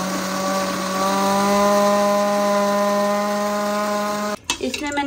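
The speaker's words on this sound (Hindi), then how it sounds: "डाल दिया तो इसको फटाफट कर लेती हूँ ग्राइंड।" An electric grinder pureeing onion, green chili and tomato gives a loud, steady, high motor whine that runs unbroken, then cuts off abruptly near the end with a brief clatter.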